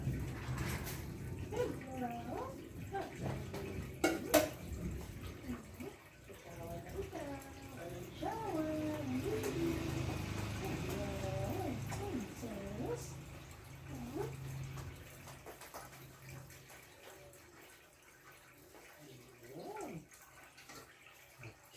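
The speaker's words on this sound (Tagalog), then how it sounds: "Shower na ang baby namin." Water splashing and running steadily while a baby is showered, with voices and child babble over the flow before it fades out.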